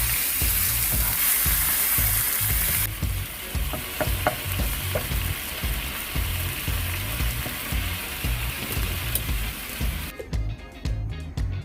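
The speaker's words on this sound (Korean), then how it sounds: "팬에 식용유를 두르고 고기를 앞뒤로 노릇하게 구워주세요" Marinated pork for Vietnamese bánh mì frying in oil in a pan, a loud, dense and continuous sizzle close up, with a few brief scrapes and a steady frying hiss throughout.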